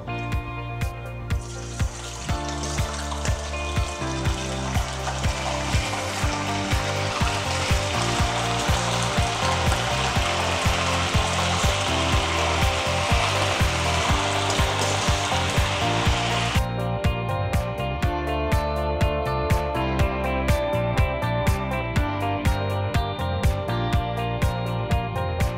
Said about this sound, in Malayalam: ഇനി നമുക്കിതിലേക്ക് ചിക്കൻ ഇട്ട് ഫ്രൈ ചെയ്തെടുക്കാം.